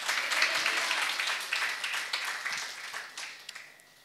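A church congregation claps steadily for several seconds, a dense wash of many hands that slowly tapers off, heard with no voices over it.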